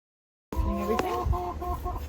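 Chooks in a suburban tropical food-forest garden cluck close by: a short burst of throaty clucking calls begins abruptly and carries on for a couple of seconds.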